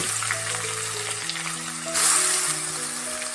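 Shredded sweet potato and potato dropped into a hot pan with chillies, giving a steady close sizzle that swells briefly louder partway through, with a faint background tone, and no talking.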